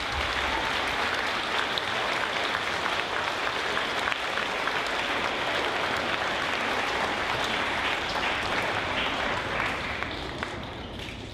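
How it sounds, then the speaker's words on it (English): A large audience at a veterans assembly applauds steadily and densely, a sustained wash of many hands clapping at moderate distance with no break from start to finish. "Let's, again, please give them a round of applause."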